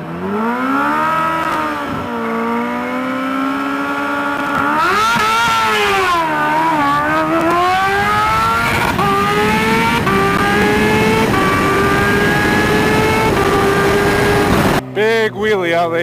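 A Kawasaki Ninja H2 motorcycle launches hard down a dragstrip, its engine screaming up through rising gear pulls, loud and close at the start, then a brief clatter at the end.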